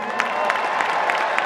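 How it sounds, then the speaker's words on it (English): Crowd applause at a strongman competition, steady dense clapping from a large audience with periodic louder bursts, continuous and moderately loud throughout. "Round of applause for Graham Hicks."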